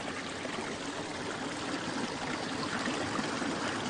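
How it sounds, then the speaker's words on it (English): A small garden stream flows continuously, a steady close rushing and trickling wash with no pauses. "This is a stream in the garden."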